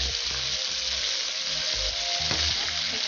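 Ginger garlic paste hits hot oil in a pan for chicken karahi, producing a loud, dense, continuous sizzle up close with a low rumbling hum underneath throughout.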